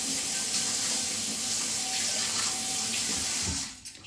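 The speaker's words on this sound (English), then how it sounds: "I'm just gonna give this a quick rinse." Water from a running kitchen tap splashes steadily over spoons being rinsed in a sink, a close, continuous broadband rush that stops abruptly near the end.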